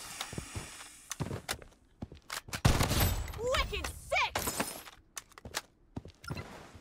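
Sniper gunfire in the video game Blood Strike fires in several loud, sharp shots with echoing tails, mixed with other bursts, clatter and footsteps, under sparse quiet sounds between shots.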